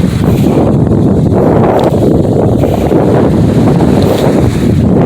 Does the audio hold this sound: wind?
yes